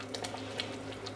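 A Bercy sauce simmers and reduces gently in a pan, giving a faint, steady bubbling patter with small crackling pops and no voice.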